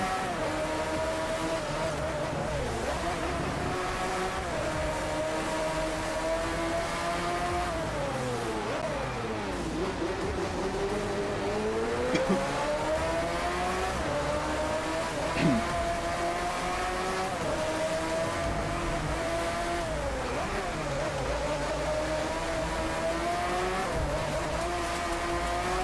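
A Lamborghini Veneno's engine drones steadily through a race in the video game Driveclub, its pitch rising and falling with gear changes, loud and continuous with occasional tire squeal.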